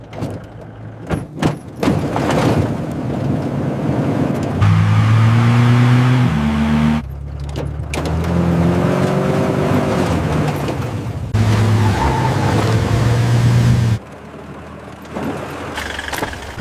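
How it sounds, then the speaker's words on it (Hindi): A car being driven fast, its engine note rising and holding through several loud stretches, with brief breaks and other noises between, no one talking over it. "ठीक है, गाड़ी थोड़ा तेज चलाओ।"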